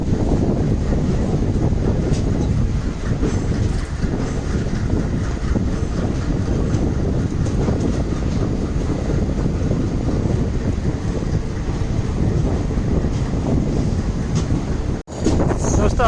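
Train rolling steadily after departing Madgaon station on the Ernakulam–Pune superfast express, a loud, continuous rumble of wheels and carriage noise with wind buffeting, broken by one brief dropout near the end.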